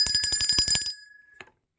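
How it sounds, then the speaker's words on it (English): A bright bell rings in a quick rapid trill for about a second, then stops, followed by one faint final ding. "I'm going to ring the bell for that."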